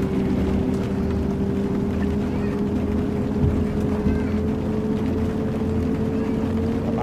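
A bus engine in Bus Simulator Ultimate drones steadily at a constant low hum with a faint whine, loud and unbroken throughout, with no clear rise in pitch.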